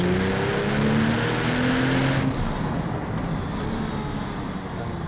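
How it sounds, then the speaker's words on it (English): A Porsche 911 Turbo 997.1 with the Mezger engine brakes hard and downshifts. A loud engine drone drops away abruptly partway through, leaving a steadier, lower road and engine rumble. "I'm braking hard, I'm in third gear, and it's dropping to second gear."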